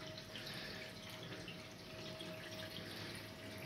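Water pours from the return pipe into a Red Sea Reefer 750 XXL reef aquarium, a constant, soft, rushing wash with a faint steady hum beneath and no voices.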